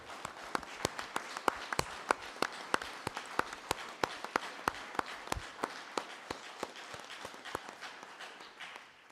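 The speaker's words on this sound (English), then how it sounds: "And I think that deserves a round of applause." A small gathering at a Narragansett town council meeting claps, sparse distinct handclaps in a brisk, fairly regular rhythm, close and crisp against a quiet room, with no talking.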